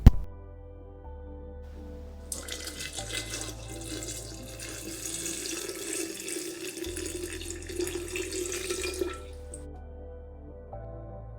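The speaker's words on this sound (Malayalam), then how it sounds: "ഇനി നമുക്കിതിലേക്ക് തിളപ്പിച്ചാറിയ വെള്ളം ചേർക്കാം." Cooled boiled water being poured into a homemade cherry wine mix, a steady splashing pour running for several seconds over a low background hum, close and moderately loud.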